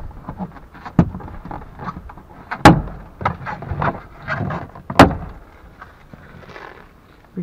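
Plastic retaining clips pop loose as a Hyundai Accent Era door panel is pried off by hand: a few sharp snaps and knocks spaced seconds apart, with softer creaks and rustling between them.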